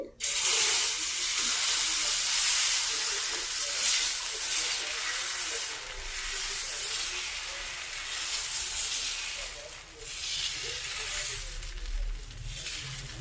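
Kothimeera dosa batter poured onto a hot oiled pan, a loud continuous hissing sizzle that swells and eases in waves over about thirteen seconds.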